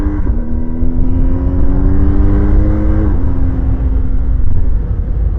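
A BMW R 1250 GSA motorcycle engine climbs steadily through rising revs as the bike accelerates to overtake, loud and close with a strong rumble, then drops sharply as it shifts up and settles into a steady drone.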